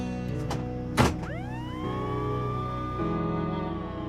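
An emergency siren wails upward and holds a steady tone after a dull thump, over a constant low engine hum.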